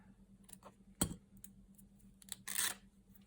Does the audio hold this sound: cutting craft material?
yes